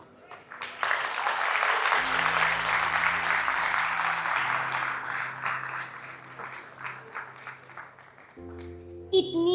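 Applause from a TEDx audience at NIT Kurukshetra, a broad burst of clapping that swells and then slowly fades, with a music sting sounding under it and a brief return near the end.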